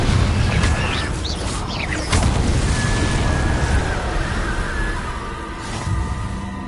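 Explosive Confringo spell blasts in Hogwarts Legacy: a dense stretch of booming impacts and crackling bursts over continuous game noise, loud and close, with no talking.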